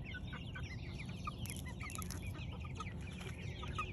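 Chickens cluck and chatter busily as they are fed cicadas, with several birds calling at once close by in a quiet outdoor yard.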